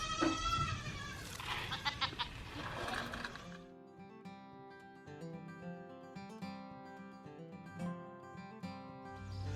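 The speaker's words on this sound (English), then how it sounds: "these baby goats will finally be quiet" Baby goats bleat in high, wavering cries near the start, then music with steady tones carries on while faint animal calls continue underneath.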